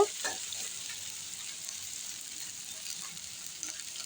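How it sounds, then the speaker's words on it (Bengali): Chopped onion, garlic and green chili fry in a pan with a steady, even hiss of oil, close and fairly quiet, a few soft clinks near the start, no talking. "দিয়ে পুরো পেঁয়াজ রসুন আর কাঁচা লঙ্কাটা লাল করে ভেজে নেব"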